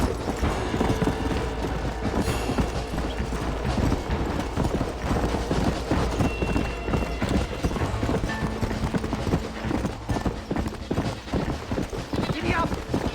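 Horse hooves clip-clop steadily in Red Dead Redemption, a continuous trotting rhythm against busy game ambience, with a voice speaking over it.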